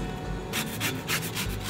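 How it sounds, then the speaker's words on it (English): A lemon is zested on a grater for a potato salad, producing about half a dozen close, rhythmic rasping scrapes in quick succession after a brief quiet start. "I'm gonna add in some lemon zest"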